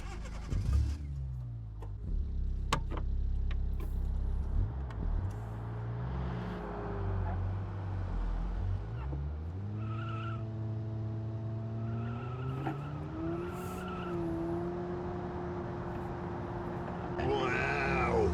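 A dual-cam engine peaking at 5,300 RPM pulls a car along in BeamNG.drive, its engine note rising and shifting through gears with bursts of tyre squeal and a voice talking over the driving.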